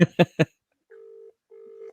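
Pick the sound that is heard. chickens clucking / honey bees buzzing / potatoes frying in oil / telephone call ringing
telephone call ringing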